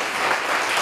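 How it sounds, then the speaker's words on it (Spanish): Applause for teachers at a church children's anniversary event, a dense, steady wash of clapping from a congregation, loud and close, heard alone for under a second. "Los felicitemos y brindémosles un fuerte aplauso a esos maestros"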